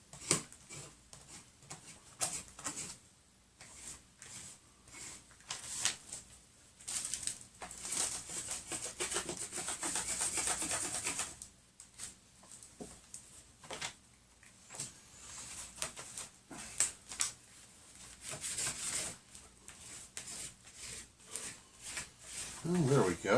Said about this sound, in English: I pretty much got it all scraped off of the jelly tray